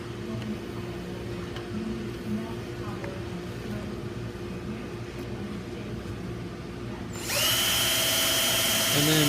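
A power drill spins up with a rivet held in its chuck, a steady whine rising in to run loud and continuous for the last couple of seconds, following a quieter workshop stretch with low background hum and faint talk.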